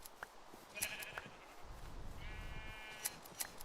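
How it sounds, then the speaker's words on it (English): Sheep bleating in Minecraft, pink sheep among them: two separate wavering bleats, one early and one longer near the end, with faint clicks and low rumble underneath and no talk. "These are actually naturally found pink sheep, by the way."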